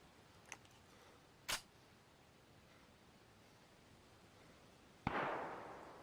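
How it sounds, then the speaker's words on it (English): Two sharp, distant cracks a second apart, then a louder bang with a noisy tail trailing off, like faraway gunfire in a quiet scene in the video game DayZ. "Those are bullets. Gunshots, at least."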